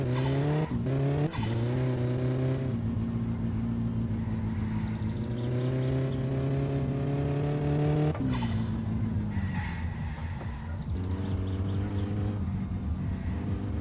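A car engine in the driving game My Summer Car hums and revs through shifting gears, rising and falling in pitch with a few sharp clicks, steady and loud across the whole stretch without speech.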